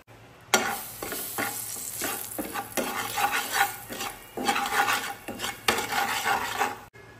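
Two spice masalas frying in about a tablespoon of oil in a pan, stirred with a utensil that scrapes and clinks in uneven bursts over a crackling sizzle, close by with no talking.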